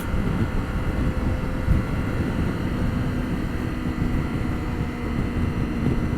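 A BMW K 1600 GT motorcycle cruising at speed gives a steady, low engine drone buried in a constant rush of wind, loud and unbroken throughout with no talking.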